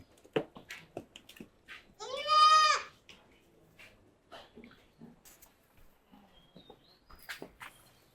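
A goat gives one clear, wavering bleat near the middle amid scattered soft clicks, shuffles and small farm sounds, with young kids and adult goats being led out to feed at a farm.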